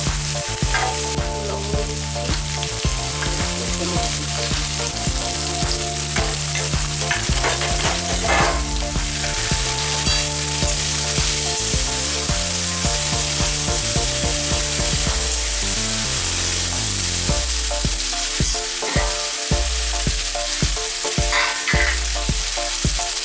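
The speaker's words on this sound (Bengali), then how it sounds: "আলুটা আমরা কেটে ধুয়ে আমরা এটা ভেজে নেব" Potatoes fry in mustard oil in a pan for a traditional banana flower dish, giving a loud, unbroken sizzle close up with repeated scraping stirs and clinks and no voices.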